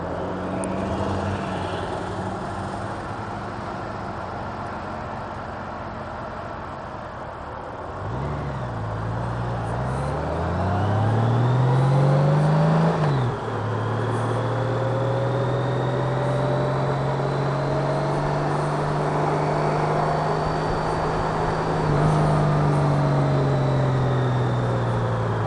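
A motorcycle engine drones steadily while riding, its pitch sweeping down and then climbing as the bike shifts and accelerates, with wind rush underneath and no talking.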